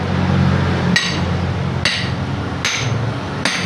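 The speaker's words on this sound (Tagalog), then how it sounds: "napakaraming palo muna ng maso" Sledgehammer blows strike a thick forklift tire, four sharp heavy impacts spaced about a second apart over a low background hum.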